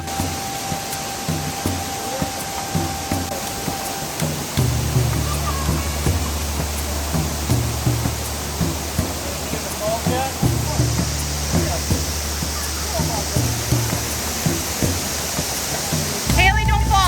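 A waterfall on Oahu roars steadily in the rain, a dense close rush of falling water that fills the whole stretch, with low rumbling swells and a voice talking intermittently over it.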